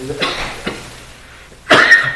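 At a special meeting, a person coughs three times nearby: two short coughs close together, then after a pause a louder, harsher one.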